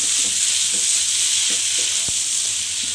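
Green moong beans being sautéed in a pan over low gas for halwa, giving a steady broadband sizzle with occasional soft stirring scrapes and a brief clack, close and continuous with no talking.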